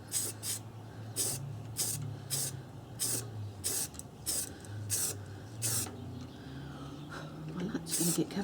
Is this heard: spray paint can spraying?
yes